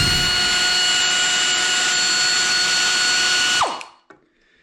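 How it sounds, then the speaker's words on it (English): Air ratchet bought around 1980 removing the seat track bolts of a 1959 Chevrolet, a loud, steady high-pitched pneumatic whine held for nearly four seconds before spinning down quickly, followed by a faint click. "I'm going to use my air ratchet."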